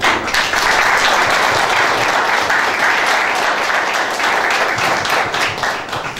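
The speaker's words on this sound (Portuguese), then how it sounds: "Eu peço uma salva de palmas." Loud, sustained applause fills a hall at a formal ceremony handing out CRECI-RS professional cards in Gravataí, a thick roar of many people clapping together from start to finish.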